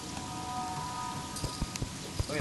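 Rain falling in Terraria, a steady hiss of the game's rain sound, with a few short thuds and clicks near the end and no talk.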